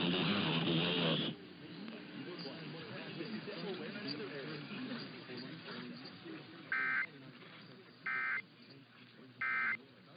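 Emergency Alert System test, with a loud opening attention tone followed by a spoken announcement and three short, identical digital data bursts spaced evenly.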